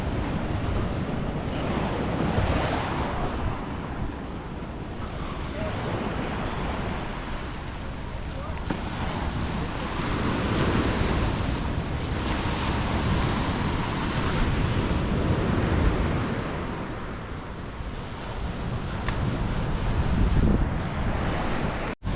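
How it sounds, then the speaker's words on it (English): Waves roll onto a beach in Paphos, Cyprus, surging and washing in repeated swells under steady wind buffeting the microphone, loud and close throughout. "This is Alliga's beach."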